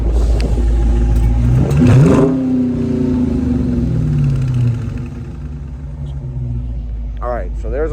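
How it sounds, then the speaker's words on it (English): A warm-started 2020 Dodge Charger R/T with its stock mid muffler idles with a deep, steady rumble, then gives one quick rev that climbs and falls back around the two-second mark before settling to idle again. "But Chris, could you rev it real quick? We're gonna do like a little before clip."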